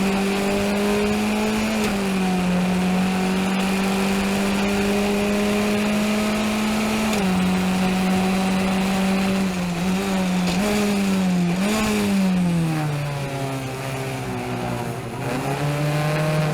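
Race car engine revving hard for a sustained stretch with strong, steady harmonics, pitch dipping and rising as the open differential lets the inside rear wheel spin under power during street racing in Montreal; loud and close, no talking.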